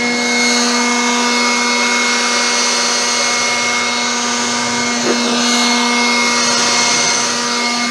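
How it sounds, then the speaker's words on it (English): A weak air blower drying a freshly applied graphene nano spray coating on a car roars steadily and loudly up close, with a constant whine and no break. "Now let's see how well I can blow dry it versus the other side. This is not the best blower."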